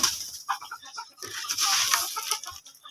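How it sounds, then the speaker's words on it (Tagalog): Chickens cluck and squawk at close range while being fed, a busy, irregular run of calls with scratchy movement and flapping. "Mga chicken"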